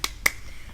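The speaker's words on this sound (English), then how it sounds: "Big claps" Two sharp hand claps, a quick pair of crisp close smacks, at a children's rhyme time session, with quiet between them.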